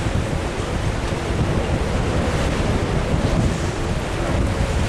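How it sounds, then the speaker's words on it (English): Steady wind buffeting a microphone at a high lookout in Tasmania, a continuous loud rumbling roar that fills the whole clip without letup and with no one talking. "It's starting to get pretty windy now, eh?"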